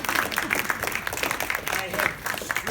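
An audience applauds in a sustained, dense patter of many hands clapping at steady loudness, with a voice speaking faintly beneath it.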